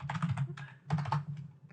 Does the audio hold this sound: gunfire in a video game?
no